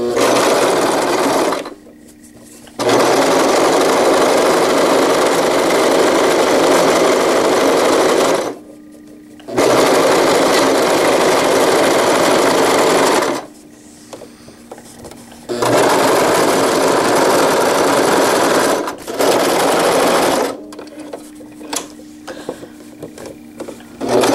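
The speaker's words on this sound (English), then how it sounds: "I'm just going to go ahead and do a little tight zigzag stitch down the side to create a little handle" Sewing machine running a tight zigzag stitch along the side of a zippered wetbag handle, in three loud, steady bursts of whirring with short quiet pauses between them and no talk.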